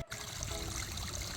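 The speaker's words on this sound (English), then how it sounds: "let's take a look at this waterfall we got going on here" Water trickles steadily down a small outdoor pond waterfall at a shrimp and guppy pond, a close, continuous splashing wash without any voices.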